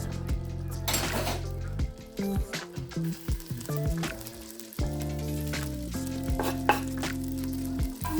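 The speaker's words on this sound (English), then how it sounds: "cook the herbs for about a minute, stirring constantly" Stinging nettle herbs sizzle and fry in a pan while a utensil stirs and scrapes continuously, with clanking metal knocks over a steady frying hiss, close and moderately loud.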